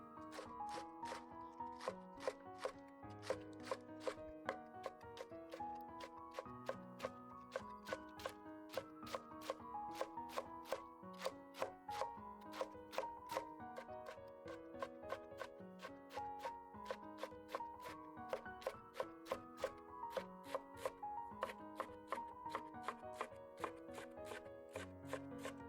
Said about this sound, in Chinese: 然后再把包菜给它切碎一点